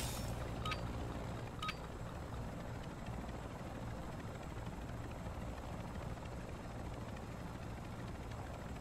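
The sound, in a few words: helicopter landing for exfil in MW3 Zombies video game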